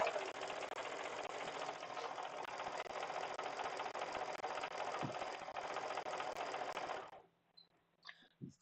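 Sewing machine running steadily while stitching jelly roll fabric strips in a timed quilting race, a loud continuous whir for about seven seconds that then stops, leaving faint clicks and small handling noises.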